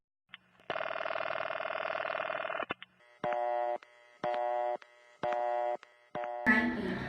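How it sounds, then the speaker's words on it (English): A telephone tone sounds from an old-style phone: a long sustained tone, then a series of evenly spaced beeps with short gaps that matches a busy signal. A brief noisy burst comes at the end. "The line is busy."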